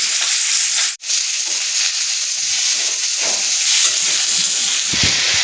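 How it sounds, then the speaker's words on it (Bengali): Pieces of pointed gourd, potato and sweet potato fry together in oil for a fish and drumstick curry, giving a loud, continuous hissing sizzle with one short clack near the start. "পটল, আলু আর রাঙালুটা এটা আমি একসঙ্গে ভেজে নেব।"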